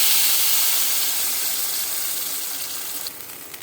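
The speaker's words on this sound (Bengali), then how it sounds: "তেলটা গরম হয়ে গেছে, আমি এই বাটা মশলাটা দিয়ে দিচ্ছি।" A ground ginger and cashew spice paste, blended with yogurt, hits hot oil in a pan and releases a loud, broad hiss that slowly fades as the sizzle settles. No voices are heard.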